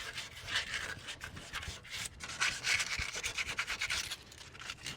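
A truck tow hook gets a light scuff with 220-grit sandpaper, a quiet, close rhythmic rasping of short back-and-forth strokes.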